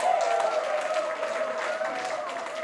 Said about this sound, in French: On va applaudir ça.